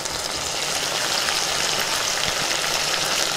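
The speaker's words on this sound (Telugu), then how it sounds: "చికెన్ వేగుతూ ఉంది" Chicken pieces fry in a pan for a Telugu chicken majjiga charu, giving a steady, close, even sizzle with a rain-like crackle that holds throughout, with no voices.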